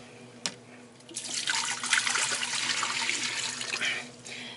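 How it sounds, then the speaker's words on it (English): Water pours steadily into a pressure cooker for a few seconds, a splashing rush after a small clink, fairly close. "I've got 4 cups of water right here that I'm putting in"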